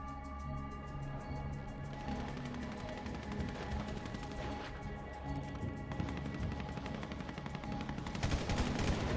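Dense gunfire from a GTA video game, with continuous rapid automatic shots and sharp cracks that build louder toward the end, steady and unbroken.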